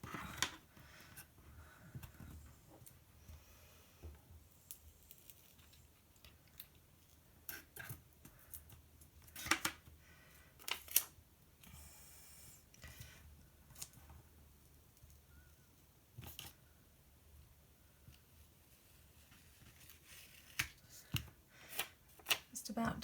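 Paper is ripped from a page in a Happy Planner. Scattered crisp tears and rustles come up close and quiet over a soft background, with sharper rips near the middle and toward the end.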